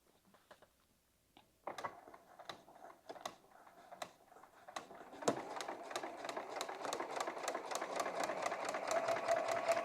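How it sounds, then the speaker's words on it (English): A sewing machine stitches a paper-pieced quilt block, starting with a few separate clicks and short bursts and then settling into a fast, steady mechanical chatter that grows louder and runs continuously. "I think I'm going to sew all of these from the outside in."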